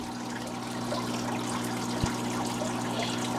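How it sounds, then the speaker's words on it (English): Water trickles steadily from a clogged, overflowing filter on a fish tank, a constant close splashing wash with a low mechanical hum beneath and one brief knock. "That means the filter is really clogged up and overflowing."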